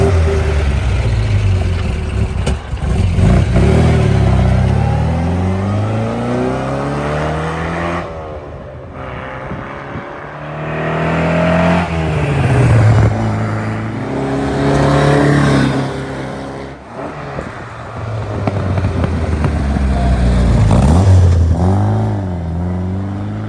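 A 1956 Austin Healey 100M roars past several times, its engine swelling as it approaches and fading away between passes, loud and close.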